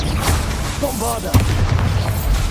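Blasting spell explosions from Bombarda in Hogwarts Legacy, a dense series of booming impacts over busy battle noise, with a brief voiced spell call partway through.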